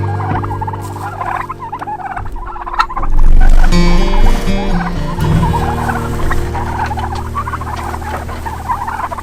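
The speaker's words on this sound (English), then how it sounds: "Also started to feed the turkeys with the water." Turkeys on a homestead gobble loudly and repeatedly, one burst swelling near the start and others following, close by with clattering and pattering in the background.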